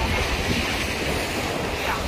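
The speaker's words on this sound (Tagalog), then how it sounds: "Napakalakas daw kasi ng alon dito" Ocean waves breaking on the rocky north coast of Taiwan at Yehliu Geopark make a steady, loud wash of surf mixed with blustery wind buffeting the microphone, continuous for the whole stretch.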